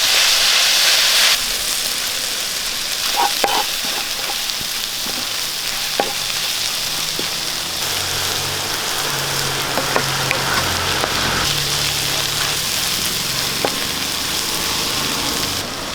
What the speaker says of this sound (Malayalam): സവാള നമുക്ക് ഒരു ബ്രൗൺ കളർ ആകുന്ന വരെ ഒന്ന് വഴറ്റി കൊടുക്കാം